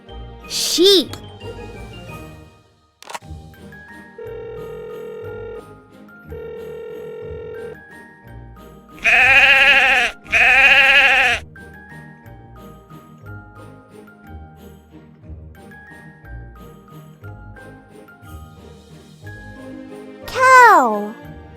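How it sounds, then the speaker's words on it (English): Two short, loud bleats from a sheep sound in quick succession from a toy phone, amid tinkling electronic tones and a voice. "Sheep."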